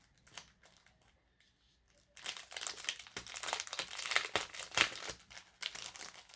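Close crinkling and rustling of wrapping as a gift package is unwrapped, quiet handling at first, then a long busy stretch of crackly paper noise with a few sharper tears.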